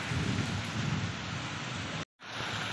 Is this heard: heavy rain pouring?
yes